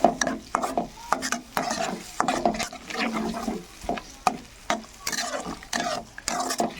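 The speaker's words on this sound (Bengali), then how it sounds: "মশলা থেকে যে তেল ছেড়ে দিয়েছে, এবার দিয়ে দিব ফেটিয়ে রাখা দই।" Whisked yogurt goes into a spice paste frying in oil and is stirred, with rhythmic scraping strokes of a spoon against the pan over a soft sizzle, close and clear with no talk.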